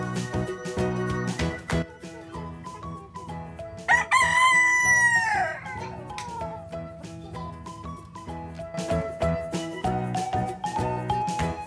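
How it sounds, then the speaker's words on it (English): A cartoon rooster crows once in a long rising and falling call over bright children's background music, with short plucked musical notes before and after. "Rooster."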